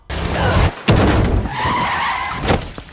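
A car skids on a road before striking a pedestrian who ran into its path; a loud tire screech and skid noise dominates the short burst, with a sharp impact-like hit near the middle.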